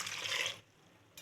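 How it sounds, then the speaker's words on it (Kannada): Water is poured into a pressure cooker holding tomato, turmeric and chilli powder for vegetable sambar. A short, close splashing pour stops, then starts again briefly. "ನೀರು ಹಾಕ್ತಾಯಿದ್ದೀನಿ"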